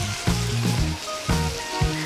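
Tamarind water hits a hot pan of spicy broken egg curry, producing a loud, steady sizzle with a few bubbling pops rising through it.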